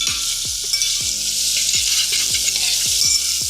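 Bacon sizzles and crackles in melted butter in a pan, a loud, steady frying hiss. Repeated close scraping and stirring sounds run through it, and no one speaks.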